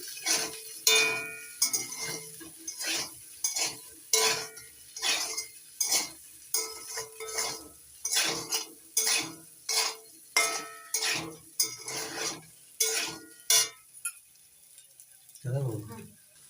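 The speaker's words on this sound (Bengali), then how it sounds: "নাড়িয়ে নিচ্ছি" Salt and chili powder being stirred into a semolina snack in a pan, a spoon scraping and clinking in a steady rhythm of about twenty quick strokes, close and fairly loud with light sizzling underneath.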